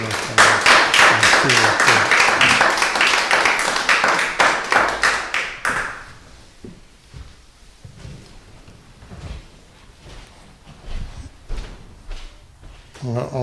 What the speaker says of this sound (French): Alors, on peut l'applaudir pour l'encourager.